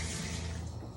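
Tap water runs steadily into a kitchen sink during washing up, a continuous close splashing rush with no break.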